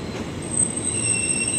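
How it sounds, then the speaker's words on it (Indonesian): A 12-car commuter train bound for Bekasi pulls into Manggarai station, its wheels squealing in a thin, high, sustained tone above a steady rolling rumble close by. "Ini masuk komuter tujuan Bekasi."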